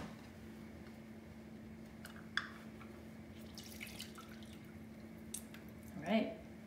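Juice from a hand citrus juicer drips into a bowl, with a few faint, scattered drips and a soft squishy press near the end, all quiet against a low room hum.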